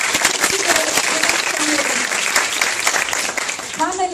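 Audience applause at a Women's Day (8 March) celebration, dense steady clapping from a crowd filling the whole moment, with a voice briefly emerging at the end.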